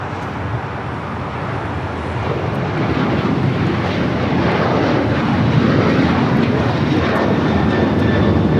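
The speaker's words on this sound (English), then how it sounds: "This is United Airlines 1284 taking off to Seattle on the 737-900ER" A United Airlines Boeing 737-900ER jet takes off at Los Angeles airport with a loud, broad, steady engine roar that swells slightly as it goes on.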